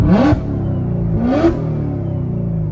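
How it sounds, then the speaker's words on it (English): The engine of a Z06 Corvette rev-matches automatically, giving two quick, loud blips that rise and fall over a steady idle rumble. It is heard up close from inside the car. "It auto rev matches just so fucking perfectly."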